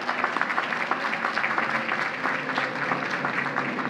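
An audience at the Queens College 94th commencement ceremony applauds the campus public safety team; sustained, somewhat distant clapping with a roomy, reverberant quality runs evenly throughout.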